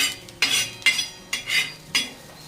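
A metal utensil scrapes and pushes chopped onion to one side of a pan while cooking a village-style drumstick pod (shevga) bhaji, making four distinct, fairly loud scraping strokes with short pauses between them and no talking.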